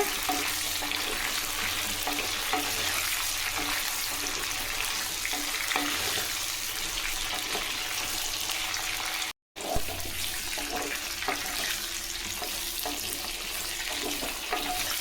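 Large brinjal pieces, one big eggplant cut into six, sputter in hot oil for thokku, making a continuous close sizzle with faint stirring clicks, briefly cut off partway and then resuming.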